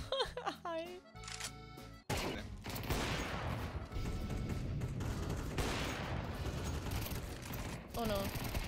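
In Counter-Strike 2, rapid gunfire and bursts of shots pour out in a dense, continuous barrage, with a player's voice talking over the start and end.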